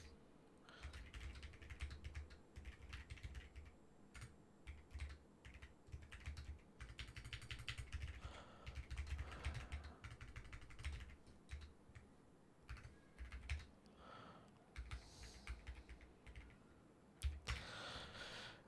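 Someone types on a computer keyboard, producing uneven bursts of clicking keystrokes with short pauses between runs, close and alone with no talking.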